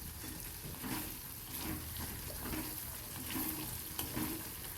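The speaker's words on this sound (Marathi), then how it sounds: "मसाला छान तेलात परतून घेऊ." Ground masala and turmeric sauté in hot oil in a kadhai, giving a steady close sizzle with soft stirring scrapes and no talk.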